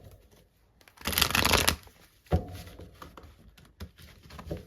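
A deck of tarot cards is shuffled in a quick riffling burst of about a second, followed by a single sharp tap as the cards are set down, then quiet handling noises.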